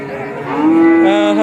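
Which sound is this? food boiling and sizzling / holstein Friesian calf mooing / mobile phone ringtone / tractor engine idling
holstein Friesian calf mooing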